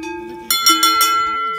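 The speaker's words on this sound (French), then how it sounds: "ce petit tintement de sonnette qui pose problème au niveau du col" Small cowbells tinkling at a high mountain pass pasture at about 1230 metres, a few bright metallic rings in quick succession after a steady tonal hum, fairly close and clear.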